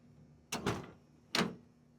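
Two quick metallic clunks a second apart as a lightweight drag car's aluminum door is opened, close by over a low steady hum.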